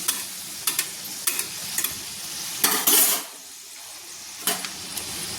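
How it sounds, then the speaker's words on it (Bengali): Chana dal puri frying in hot oil, a steady soft sizzle with a few sharp utensil clicks and scrapes as the puri is turned over, close by, and no one talks over it. "এক পিঠ ভাজা হয়ে গেছে তো আমি আরেক পিঠ উল্টে নিয়েছি"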